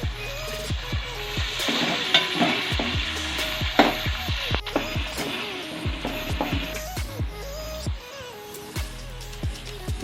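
Onions, garlic, tomatoes and green chilies fry in a pan, giving a steady close sizzle with recurring scrapes and knocks of a spoon stirring against the metal throughout.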